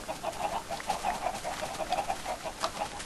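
Chickens on a Minecraft chicken farm cluck in quick, repeated bursts, a busy overlapping chorus of short clucks at moderate loudness over a steady background hum.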